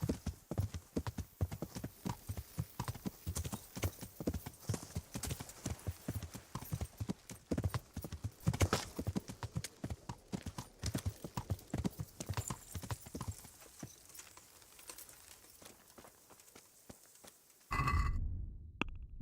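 Horse hooves in a video game clip-clop in a rapid, uneven rhythm of dense hits that slows and thins toward the end. A brief snort or whinny-like burst closes the sequence.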